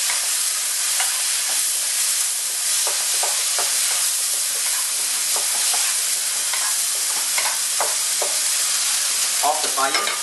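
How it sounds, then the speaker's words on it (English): Oyster omelette mixture with fish sauce and Hua Tiao wine being stirred in a hot frying pan, steady sizzling and frying with intermittent scraping clinks of the utensil, close and loud, no talk. "Mix it in."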